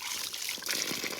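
Water flows from an overhead outdoor source while someone washes their hands and face, making a soft continuous trickle with small splashes breaking through the steady hiss.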